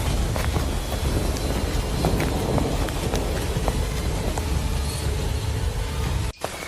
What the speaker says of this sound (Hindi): तेज बारिश, जंगली जानवरों की आवाजें